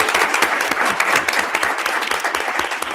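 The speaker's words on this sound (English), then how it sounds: "let's give him another round of applause" An audience at a school district board of education meeting claps in a round of applause, individual hand claps audible within a steady, moderately loud wash that carries on evenly without talk.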